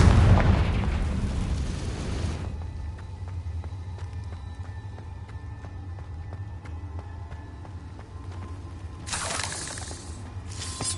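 A Confringo blasting spell detonates in a video game: a loud, booming burst with a rumbling tail for about two seconds, followed by a low ambient hum and a brief second whoosh of noise near the end.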